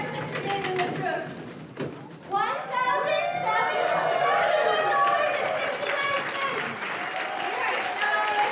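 A crowd applauds at a Nairobi evening fundraiser after a donation check is revealed, with broadband clapping and cheering filling the space continuously and children's voices mixed in.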